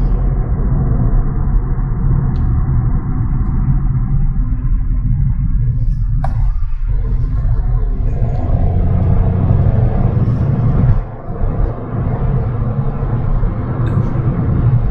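Hyundai HB20S Platinum Plus 2022 accelerating from speed, a steady low engine and road rumble that stays fairly subdued and even throughout, with no talk over it.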